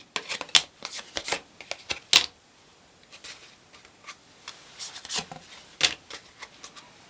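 Tarot and oracle cards are shuffled close up, giving quick papery riffles and soft slaps in irregular bursts with quiet gaps between them.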